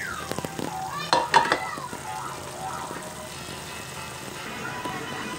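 Onions frying with liver steak in a pan give a soft, steady sizzle, with a few clinks and scrapes of stirring near the start, close and fairly quiet.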